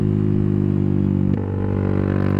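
A 2016 Honda CBR300 flat tracker motorcycle exhaust idles with a loud, steady low rumble, then the tone shifts and softens slightly partway through.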